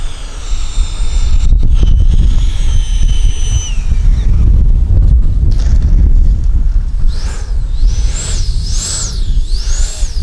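Gusty wind buffets the microphone at an RC model airplane flying field, a loud, steady low rumble with a small electric ducted-fan jet whining high overhead near the end.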